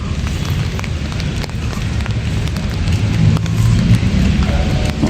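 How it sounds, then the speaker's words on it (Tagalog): Steady rain hissing and pattering outdoors, a dense continuous wash of noise with a low rumble underneath, no voices. "Ulan eh."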